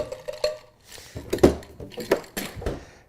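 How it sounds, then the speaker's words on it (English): Ice cubes drop into a whiskey cocktail glass, a short series of hard clinks and rattling knocks, close and distinct with quiet gaps between. "next we add our ice to go ahead and give it a nice chill."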